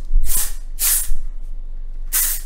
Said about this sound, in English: So I'm just gonna shake it, give it a light spray.